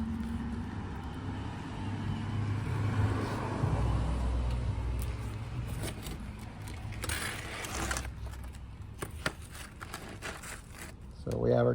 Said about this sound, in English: Delivery trucks.